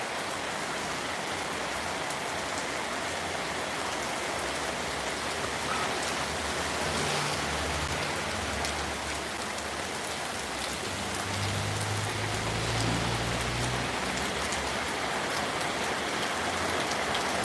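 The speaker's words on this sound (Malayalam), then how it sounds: "മഴ തകർക്കുകയാണ്" Steady, heavy rain pours down in a dense, continuous hiss, close and loud throughout, with no voices.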